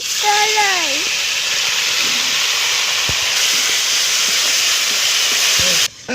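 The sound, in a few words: moong dal frying in oil with cumin, cinnamon, cardamom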